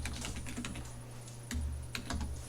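Numbers and the Enter key are typed on a computer keyboard in a run of quick, close key clicks, with a couple of heavier thumps that sound like the Enter key being struck.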